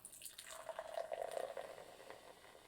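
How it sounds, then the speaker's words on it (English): Fansville Reserve Bourbon Dr. Pepper is poured into a glass, giving a brief close splash that settles into a steady trickling fill over a couple of seconds, with no voices. "I'm actually gonna film the pour."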